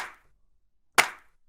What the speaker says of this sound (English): We got some claps and some snaps.